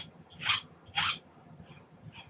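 A file tapers the end of a silver wire for earrings: two clear rasping strokes close up, followed by a few fainter, shorter strokes, with no talk.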